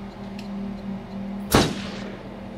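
A single sharp gunshot rings out in the video game Until Dawn, a brief loud crack midway through over a low ambient hum.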